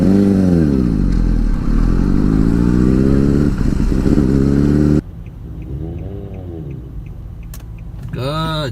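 A motorcycle ridden by a first-time beginner on the road, its engine revving and accelerating loudly with rising and falling pitch, then dropping to a quieter idle before another short rev.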